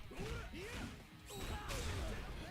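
Heavy smash-and-crash impacts from a shatter strike in King of Fighters XV during a tournament match, several sharp hits with whooshing swings, loud under excited commentary.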